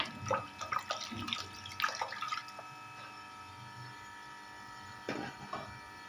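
Water runs and splashes into a cooking pot, 1.5 litres poured for a chicken pulao, with clattering at the start and a steady background hum throughout.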